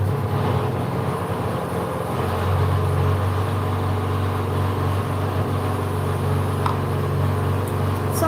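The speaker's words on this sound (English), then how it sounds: "It's a generating set." A generating set runs steadily in a home kitchen, giving a continuous low engine drone with a constant mechanical hum and no breaks.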